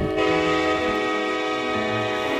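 A BBD LRC high speed train in the video game RO-Scale Sandbox moves along, giving a loud steady rumble with a sustained horn-like tonal drone that continues throughout.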